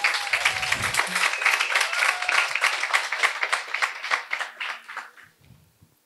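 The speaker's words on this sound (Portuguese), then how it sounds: "Cadê as palmas da colega?" Applause for a youth parliament speaker in a Rio de Janeiro state chamber: a room full of people clapping steadily for several seconds, fading out toward the end, with brief voices underneath.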